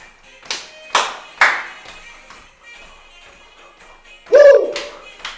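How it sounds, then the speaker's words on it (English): On a school TV program, a group claps four sharp, evenly spaced times in close succession, followed after a pause by a loud cheering voice. "And now 4 claps."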